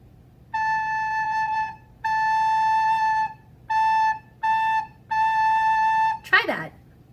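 Recorder in a children's music lesson plays the same note five times in rhythm, two long notes, two short ones, then a long one, clear and close, with a brief voice cutting in at the end.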